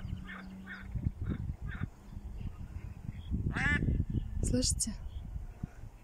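A duck quacks a few times nearby while swimming, over steady outdoor background noise, with a person speaking briefly alongside.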